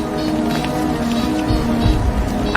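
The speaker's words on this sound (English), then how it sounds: "I've never seen it rain and snow at the same time." Heavy rain mixed with snow lashes down during a wintry film storm near a wrecked P-47 fighter plane, a steady wash of noise with low rumbles and faint voices underneath.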